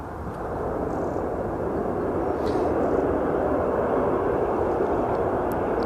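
A small Aer Lingus jet airliner at Edinburgh Airport, its engines building from a softer start into a loud, steady broadband roar that stays constant and fairly near.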